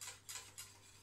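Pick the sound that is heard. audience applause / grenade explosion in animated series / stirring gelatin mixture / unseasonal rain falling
stirring gelatin mixture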